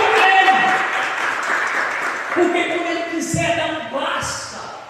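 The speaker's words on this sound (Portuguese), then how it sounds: "aplauda o Senhor, aplauda o Senhor, aplauda!" A church congregation claps during a Portuguese-language service, a steady mass of applause that thins over time, with voices and music tones mixed in beneath.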